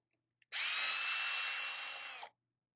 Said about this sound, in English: I'm going to use my power tool to go ahead and cinch this down